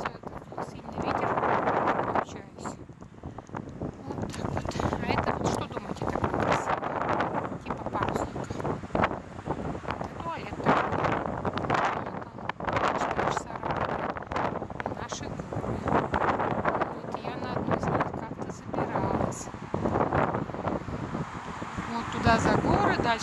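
Strong wind blows on the Tokyo Bay shore near Yokohama, buffeting the microphone in loud, irregular gusts that rise and fall throughout.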